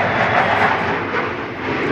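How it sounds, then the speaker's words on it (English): An airplane passing overhead outdoors beside a parked campervan: a steady, broad engine roar that holds even and continuous throughout, with no talking. "Of course, airplane comes when I'm filming."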